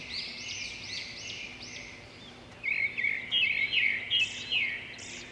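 A small bird chirps in quick repeated bursts, soft at first and then louder and more rapid in the second half, against a quiet background.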